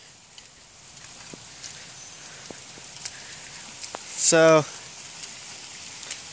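Steady light rain falls outdoors, a soft continuous hiss and patter throughout, with a brief spoken word breaking in near the middle.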